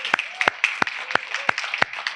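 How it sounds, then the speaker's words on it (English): A small group claps sparsely at a Harris County press conference, a handful of distinct, sharp hand claps spaced unevenly in a thin round of applause, moderately close with no voices. "Give her a warm round of applause."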